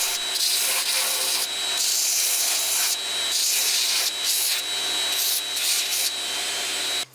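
A wooden knife handle with brass pins, on a knife made from a file, is sanded by hand with steady back-and-forth strokes. The rasping is close and even, with brief pauses between passes.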